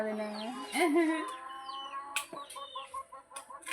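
Chicken clucks and calls out in a backyard or farmyard, several short bursts close by, with other birds and voices faintly in the background.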